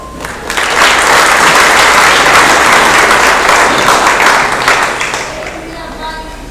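Loud, sustained applause from an awards banquet audience, dense clapping that swells quickly, holds steady for several seconds, then tapers off toward the end.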